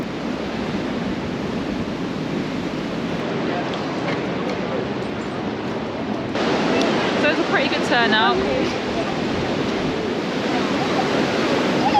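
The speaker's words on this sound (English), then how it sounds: "It's so windy." Strong wind roars steadily across the microphone on an exposed hill walk at Winnats Pass near Castleton, a dense broadband rush that grows louder and gustier partway through, with a person talking briefly over it.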